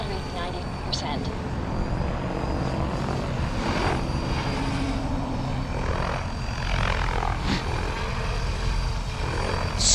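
A Freedom Piuma RC helicopter flies at low head speed, its rotor and motor making a steady, even whirring drone. Someone talks over it throughout.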